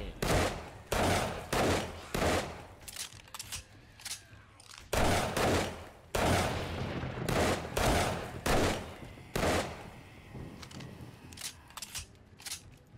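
Rapid bursts of gunfire from the video game 7 Days to Die, loud repeated volleys in irregular clusters across the whole stretch, with brief gaps between strings of shots.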